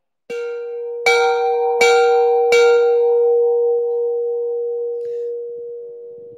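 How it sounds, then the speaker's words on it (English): A bell at a charity auction is rung four times in quick succession, each clear metallic strike ringing on and blending into a long, slowly fading sustained tone, loud and close with no talking. "Let's ring that bell."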